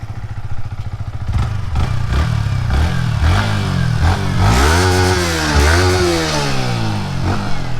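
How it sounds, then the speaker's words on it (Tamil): A 2020 Yamaha MT15 BS6 motorcycle exhaust burbles at idle in a residential area, then revs sharply several times, pitch swooping up and down, loud and close with no speech. "ஸோ இப்போ நான் எக்ஸாஸ்ட் நோட் உங்களுக்கு காமிக்கிறேன்."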